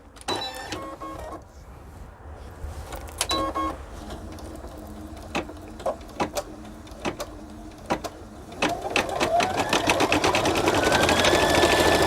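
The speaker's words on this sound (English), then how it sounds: "all we have to do now is go ahead and start stitching" An embroidery machine beginning to stitch a design, with scattered clicks and mechanical clatter early on, then a rising, steady motorized whir building toward the end.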